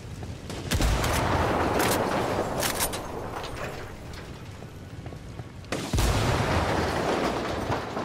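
Grenade blasts and heavy gunfire in Ghost Recon Wildlands, a dense, booming barrage of explosions and shots with a sharp burst near the end, loud and continuous.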